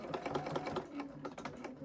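Sewing machine back-stitching a pet pouch onto a sweatshirt, giving a close, rapid, steady mechanical patter of stitches with no talk.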